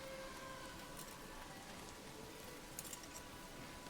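Steady rain falls in the medieval strategy game Manor Lords, a faint, even hiss of downpour on roofs and roads with a few brief drop patters, continuous and without talk.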